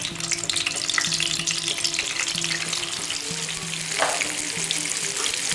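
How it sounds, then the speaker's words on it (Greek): Aubergines frying in hot oil for a traditional Greek imam dish, a loud, close, continuous crackling sizzle with a low steady hum underneath and no talking. "στίβουμε τις μελιτζάνες από το νερό και τις βάζουμε να τις τηγανίσουμε."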